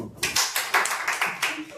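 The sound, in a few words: hand clapping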